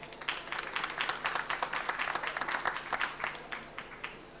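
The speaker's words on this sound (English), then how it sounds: "let's give a big warm round of applause to all our wonderful panelists today" An audience at a COP29 conference session applauds the panelists, a fairly soft, steady patter of many hands clapping from a distance, fading toward the end with no talk.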